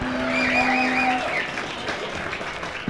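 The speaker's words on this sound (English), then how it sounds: "Give it a cheer, ladies and gentlemen." A crowd cheering and clapping at a community football match in Hobart, a broad sustained roar of applause with a steady tone sounding over it at first.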